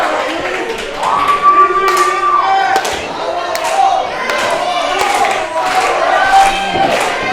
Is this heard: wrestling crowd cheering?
yes